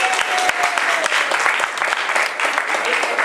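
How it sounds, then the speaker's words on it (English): Residents at a community housing forum applaud together, a dense, steady wash of many hands clapping close by with a few sharper claps standing out, continuing without a break. "If you can give yourselves a round of applause, you deserve it."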